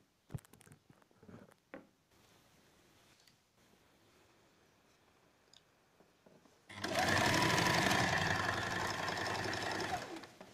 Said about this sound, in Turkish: Böyle çektire çektire makineye çekeceğiz artık.